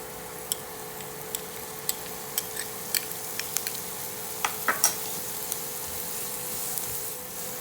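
Garlic sizzling in butter in a pan, a quiet, steady frying hiss broken by scattered sharp pops and crackles.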